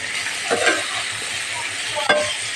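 Cluster beans tossed with chili powder and garam masala in a hot pan, a soft sizzle with a couple of quick scraping stirs, close and without talk.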